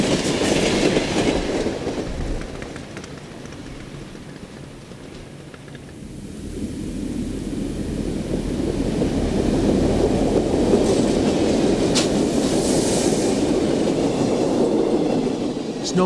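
A Milwaukee Road freight train hauling loads of stacked auto frames rolls steadily past in a Wisconsin setting, a continuous rumble of wheels and cars with faint clickety-clack and occasional squeal, no voices.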